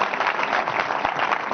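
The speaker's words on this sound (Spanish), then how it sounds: "Un Nada, aplauso para vosotros" An audience at a talk on real-time motion capture gives steady, continuous applause for the presenters, a dense wash of many hands clapping at moderate distance.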